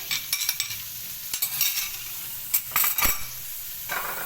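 Chopped onion fries in oil in a pan for chicken pasta, giving a continuous sizzle. A spoon stirs and scrapes in several close, uneven bursts.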